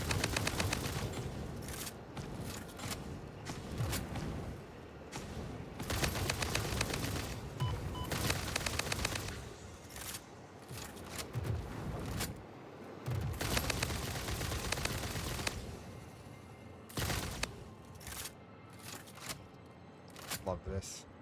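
Gunfire in the video game Satisfactory, with repeated bursts of shots over about twenty seconds, rising and falling loudly, under a voice talking through the shooting.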